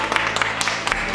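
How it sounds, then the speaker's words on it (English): A short, close burst of audience applause at a clothing-brand show: dense, irregular hand claps fill the moment with a faint voice underneath. "round of applause for yourself"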